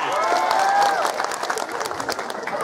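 Applause from an audience at a Sundanese religious sermon gathering in Cimahi, a dense wash of clapping with some crowd noise, steady and fairly loud, a few voices mixed in.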